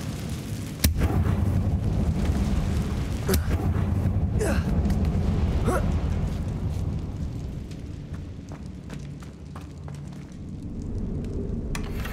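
A blasting-spell explosion from Hogwarts Legacy, cast in a spider-filled tomb: a sharp crack followed by a long low rumbling roar, with a few smaller crackling bursts and debris hits over steady background game sound.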